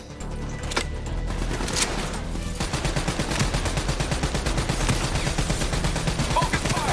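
Rapid sustained automatic gunfire in Call of Duty Black Ops 3 rattles loud and dense throughout, a continuous burst of shots with heavy low rumble, over game effects and some voices.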